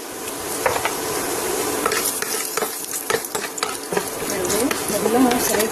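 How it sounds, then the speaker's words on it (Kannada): Peanuts and urad dal fry in hot oil, a loud close sizzle punctuated by frequent quick scraping stirs of a spatula against the pan, with no voices over it. "ಶೇಂಗಾ ಸ್ವಲ್ಪ ಕೆಂಪಾಗಬೇಕು, ಉದ್ದಿನಬೇಳೆನೂ ಸ್ವಲ್ಪ ಕೆಂಪಾಗಬೇಕು, ಅಲ್ಲಿ ತನಕ ಫ್ರೈ ಮಾಡ್ಕೊರಿ"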